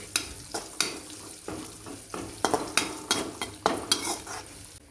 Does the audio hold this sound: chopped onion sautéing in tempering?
yes